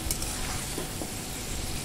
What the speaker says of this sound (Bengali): প্রথমেই ওই তেলটা গরম করে আমি আলুগুলোকে ভেজে নেব খানিকটা, হালকা একটু গোল্ডেন ব্রাউন হওয়া পর্যন্ত